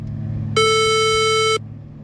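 Swedish emergency alert system alarm: a single loud, steady electronic beep lasting about a second, rich in overtones, cutting sharply in and out over a low background hum.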